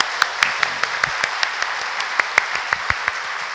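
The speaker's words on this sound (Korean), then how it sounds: "우리 찬양대 오늘 같은 날은 박수를 좀 한번 더 힘차게 쳐드릴 필요가 있을 것 같아요." A church congregation applauds its choir during a Sunday service with a sparse, fairly soft patter of separate claps heard through the room.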